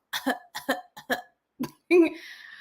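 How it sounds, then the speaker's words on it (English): Several short coughing bursts come in quick succession close to the microphone, ending in a longer, harsher cough with a voiced throat-clearing tail, in an otherwise quiet room. "You said there was a cough."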